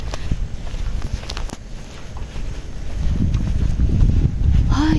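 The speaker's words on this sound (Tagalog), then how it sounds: "sarap ng hangin, ang lamig." Cool wind gusting outdoors while walking down a mountain road, a steady close rush of wind noise that grows stronger toward the end.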